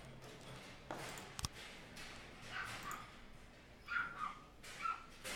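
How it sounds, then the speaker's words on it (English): A puppy whimpers and yips in several short, thin, high-pitched cries, faint and somewhat distant, spread unevenly over a quiet room background with a few soft knocks. "That's a puppy that I hear"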